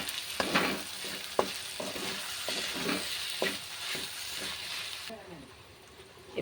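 Spoon stirring egg curry as it fries and sizzles in a pan, with a steady hiss beneath several scraping strokes, close up, before the sizzle drops away near the end.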